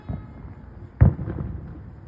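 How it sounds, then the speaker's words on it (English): A single sharp firework burst goes off close by during a Fourth of July night, a loud bang near the middle with a short rumbling tail over steady background noise. "He's doing more fireworks."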